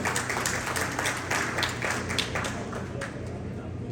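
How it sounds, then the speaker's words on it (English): At a gala dinner, an audience applauds for the seminar organizers with steady, moderately loud clapping that carries through the whole stretch, with some room murmur beneath it. "You have to give a big applause."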